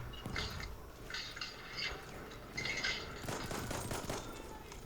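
Gunfire in the Battlefield 1 video game crackles in a steady stream of bursts and distant shots over a continuous battle rumble, with someone speaking intermittently over it.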